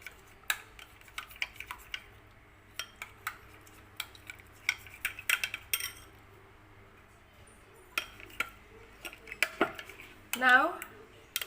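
A spoon stirs mint chutney mixture in a bowl, making repeated sharp clinks and scrapes in irregular bursts over quiet surroundings. A brief faint voice comes near the end.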